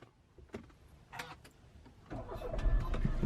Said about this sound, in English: I will press the start engine and apply the brake.